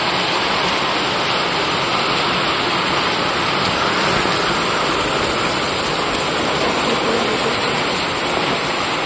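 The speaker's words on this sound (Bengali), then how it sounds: "দেখো কিভাবে বৃষ্টি হচ্ছে, প্রচণ্ড বৃষ্টি হচ্ছে" Heavy rain falls in a loud, dense, unbroken roar that stays constant throughout, with no voices over it.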